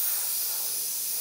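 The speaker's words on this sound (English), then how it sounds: "taking the airbrush and our neutral gray, I'm just going to spray" Airbrush spraying neutral gray paint, a steady airy hiss held evenly for just over a second, close and unbroken.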